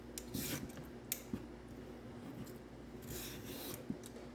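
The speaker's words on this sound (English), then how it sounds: "grab the carrot, right stem, and just peel. Downward, long" A carrot is peeled with long downward strokes in a kitchen, several soft rasping scrapes repeating at an uneven pace, faint and close with no voices.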